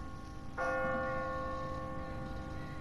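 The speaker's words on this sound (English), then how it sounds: "What kind of church bell goes off at 20 past the hour?" A church bell rings at twenty past the hour, set off automatically on a timer; one loud struck tone with a long, ringing harmonic decay that sustains and slowly fades over a low background rumble.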